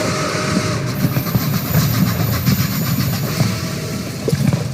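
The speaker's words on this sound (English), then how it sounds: "Look out, here comes a train for the infantry." A model train runs through a Christmas garden display, a steady rumbling roll with rapid clicking from the track, fairly loud and continuous throughout with no voices over it.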